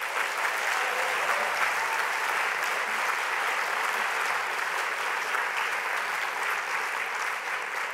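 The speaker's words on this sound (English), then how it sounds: "give a huge round of applause to the 2019 National Book Award finalists" A large audience applauds steadily and loudly for the 2019 National Book Award finalists at a book awards reading, the dense clapping sustained without a break throughout.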